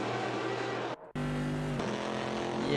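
A Porsche GTE race car in a racing game at Le Mans, its engine droning steadily at high revs with a brief cut, then carrying on at full speed close by.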